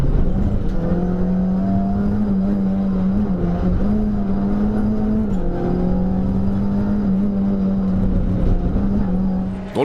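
Renault Clio 2 race car, number 78, heard from inside the cabin at the Mettet circuit: a steady, loud engine drone that rises and falls slightly with throttle changes throughout, with no talking.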